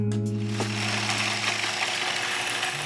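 A blender whirs steadily and close up, mixing the dry ingredients and salt for a sugar-free hot chocolate mix, a continuous motor drone with a faint mechanical rattle and no talking.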